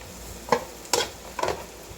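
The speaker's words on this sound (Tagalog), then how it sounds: "Gisa-gisa po natin." Onion sautéing in a pan after garlic has browned, with a soft sizzle and three quick scraping stirs of a spatula, close and moderate, with no speech.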